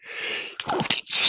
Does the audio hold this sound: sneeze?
yes